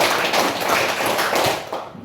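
Classroom students clap together in a counted rhythm, a sustained run of sharp, close hand claps with the pulses blurring into one another, then tapering off near the end.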